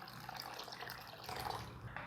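Water poured from a cup into pav bhaji simmering in a pan, a steady close splashing pour that runs throughout with no talk.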